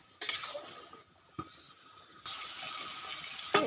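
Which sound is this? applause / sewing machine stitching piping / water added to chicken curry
water added to chicken curry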